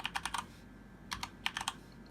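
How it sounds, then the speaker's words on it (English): Fast typing on a computer keyboard, two quick bursts of clicky keystrokes separated by a short pause, close and clear with no talking. "So you want to literally just type in Rebellion"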